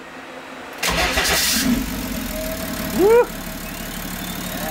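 A BMW M57 3.0-litre twin-turbo six-cylinder diesel fitted in a Volkswagen LT40 van cranks briefly and catches, settling into a rough, close idle with a short rev. A person speaks and whoops over it.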